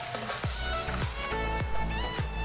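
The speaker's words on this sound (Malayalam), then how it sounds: "ഇനി നമുക്കിതൊന്ന് നന്നായിട്ടൊന്ന് ബ്രൗൺ കളറാവുന്നത് വരെ ഒന്ന് മിക്സ് ചെയ്ത് കൊടുക്കാം" Onions frying in a pan for duck roast, stirred with regular scraping strokes over a steady, loud sizzle, close up with no talking.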